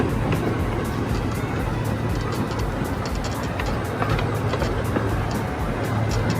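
Riding a miniature park train with a red engine at a regional park: a steady loud rumble with repeated rhythmic clicks of wheels over track joints throughout.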